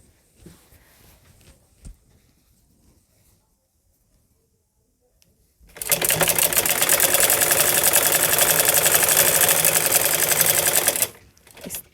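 A sewing machine stitches salwar fabric in a rapid, steady mechanical rattle for about five seconds, loud and close, after a quiet stretch of faint handling noises.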